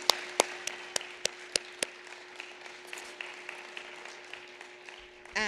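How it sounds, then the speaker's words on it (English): Scattered applause from a small audience at an MLK Day human rights ceremony, a few sharp distinct claps standing out in the first two seconds before the clapping thins into a softer patter, with a steady hum underneath. "Can we just get another round of applause for Anya, Max, Vanessa, and Benjamin?"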